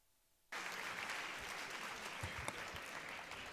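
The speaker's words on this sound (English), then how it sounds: "Give a huge round of applause to Alankriti Sigatia" A conference audience breaks into sudden, sustained applause for a presenter, a dense wash of hand claps starting abruptly and continuing steadily without talk.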